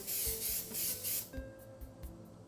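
Colani spray gun fitted with a thick 1.2 mm needle, spraying in loud hissing bursts with short pauses, then fading to quieter sputters and faint clicks.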